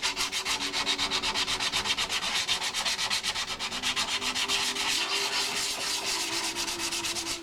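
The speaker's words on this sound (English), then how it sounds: "It's all hand labor. It's all a sanding block." A sanding block is rubbed by hand over a motorcycle fairing in steady, rapid back-and-forth strokes, loud and close, continuing without pause and with no talk.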